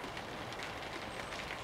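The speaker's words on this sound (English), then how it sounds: "and it's raining." Rain falling steadily on an outdoor allotment plot, a soft, even hiss of drops with no gaps, fairly quiet and close, with no voices.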